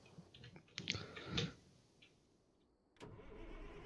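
Truck with a Caterpillar 3176 engine and an 18-speed gearbox pulling a livestock trailer in American Truck Simulator; a quiet engine rumble with a few clicks, then a steady low drone as it moves off.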